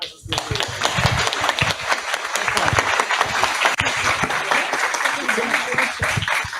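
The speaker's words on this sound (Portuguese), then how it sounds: "Uma salva de palmas para vocês." Applause from a church congregation at a consecration service for new female workers, sustained dense clapping for several seconds with voices mixed in.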